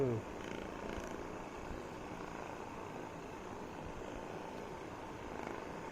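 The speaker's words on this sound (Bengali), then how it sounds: "এটা আমাদের লোভী বিড়াল, খাদক, হাঙ্গার মিটি।" A cat purrs close by in a quiet room, a soft, steady low rumble that continues throughout.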